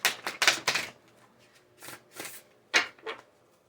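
A tarot card deck is shuffled up close in several quick riffling bursts, with short pauses between the crisp papery flutters.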